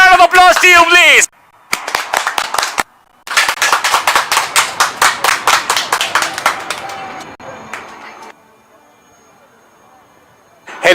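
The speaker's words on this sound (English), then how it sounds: "Big round of applause to you, please." At a Chennai Marina air show, a crowd claps in a fast, steady rhythm of sharp, close claps that fade out, with a few calls in between.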